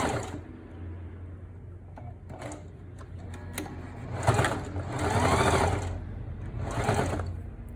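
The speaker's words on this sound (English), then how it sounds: "just make sure you go really slow so your sewing machine can handle it" A sewing machine stitching thick fabric mask seams slowly, with bursts of rapid mechanical whirring and ticking that start and stop in short runs, close and clear with no talking.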